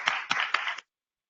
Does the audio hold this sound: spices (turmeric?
no